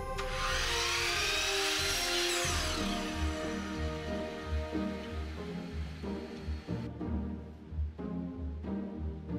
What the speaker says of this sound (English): Once again, back to the miter saw.